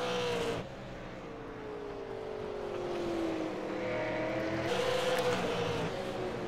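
Race cars at South Boston speedway roar continuously through the turns, engine notes sweeping up and down as the pack passes, loud and steady over the whole stretch.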